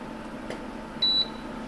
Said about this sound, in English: That beep you hear is when I take it off of the induction